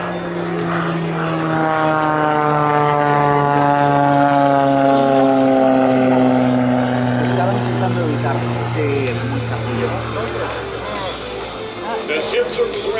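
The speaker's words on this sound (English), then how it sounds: "this is Gentleman Jim Peitz and the Aerobatic Bonanza" A Beechcraft F-33C Bonanza flies an aerobatic airshow demonstration, its propeller engine giving a loud, sustained harmonic drone that slowly falls in pitch as it passes close overhead, with a public-address announcer talking throughout.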